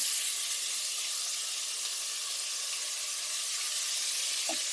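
Chicken for biryani lightly frying in a small amount of oil, a steady, even hiss and sizzle held at constant level throughout with no pauses or talk.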